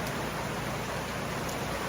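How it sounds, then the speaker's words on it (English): Heavy rain falling at night, a dense, even hiss of steady downpour with no break. "it don't look like the rain's lightening up. Looks like it's getting heavier."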